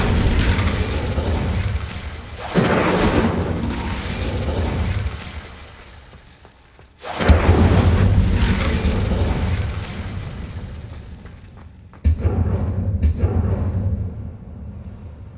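Confringo and Incendio fire spells in Hogwarts Legacy set off a series of loud, roaring explosions, three big blasts spread out with rumbling decays between them.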